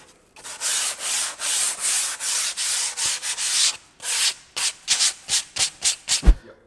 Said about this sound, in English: So I'm going to finalize it with sandpaper